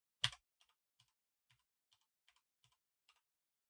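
Computer keyboard typing, one firm keystroke followed by about eight quiet, evenly spaced key taps, close and faint in an otherwise silent room.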